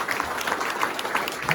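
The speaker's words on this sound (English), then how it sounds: "give them all a round of applause" An audience at an arts center grand reopening applauds with steady, dense clapping that holds throughout, fairly close and even in level.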